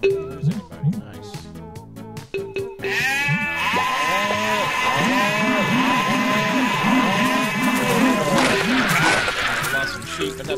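Sheep in the Farm Frenzy farming video game bleat repeatedly in a dense, overlapping chorus, loud and continuous, over rhythmic game music and sound effects.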